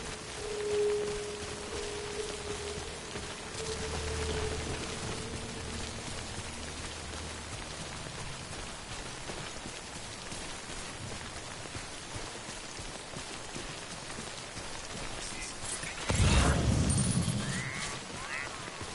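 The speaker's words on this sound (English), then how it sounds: "Good thing it was raining." Rain pours in the video game Death Stranding, a dense continuous patter heard up close, with a low hum early on and a louder splashing burst near the end.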